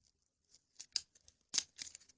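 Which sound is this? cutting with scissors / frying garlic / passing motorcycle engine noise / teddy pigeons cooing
cutting with scissors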